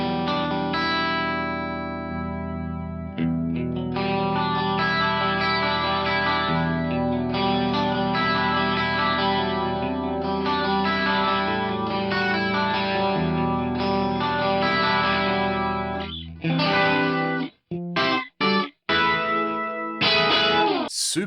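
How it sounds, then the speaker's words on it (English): Fractal VP4 pedal running its Chorus MTD factory preset, a four-voice chorus at default settings, on a sustained chorded guitar passage: lush, wide, shimmering and loud throughout, ending in a few short choppy strums and cutoffs. "there is a factory type called Chorus MTD that I've got on at the moment that at its default settings is a fantastic sounding 4-voice chorus"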